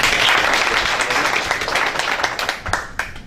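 Audience applause at a mayoral debate for the city of Boynton Beach: a burst of many hands clapping that starts full and gradually thins out over a few seconds.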